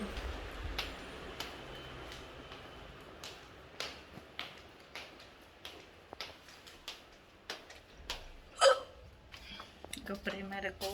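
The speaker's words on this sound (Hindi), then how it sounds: "मुझे बहुत ज़्यादा हिचकी आ रही थी" A person hiccups over and over, with sharp, fairly close hiccups recurring irregularly over a low background, and a voice occasionally present.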